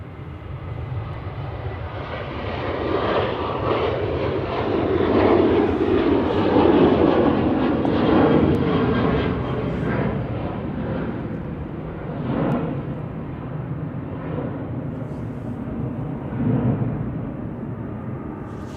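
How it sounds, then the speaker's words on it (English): KLM Boeing 737-800 departing Manchester Airport, its jet engines producing a loud, sustained broadband roar that swells and slowly recedes, with no talk over it. "That's KLM heading off to Amsterdam, 737-800 PHBCE, flight 1036."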